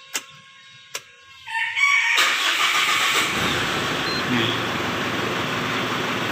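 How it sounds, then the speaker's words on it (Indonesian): A diesel car's engine cranks and fires up after a couple of faint knocks, settling into a loud, steady idle that runs on close by with no talk over it. "Oke teman-teman, kita hidupkan terlebih dahulu mobilnya ya."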